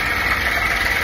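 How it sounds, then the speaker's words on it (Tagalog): Motorcycle engine idling steadily at low RPM, a faint, even mid-pitched hum over a short stretch with no sharp revving. "ang nakita kong maganda dyan sa video na yan is naka-low RPM yung motor"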